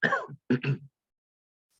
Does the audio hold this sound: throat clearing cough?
yes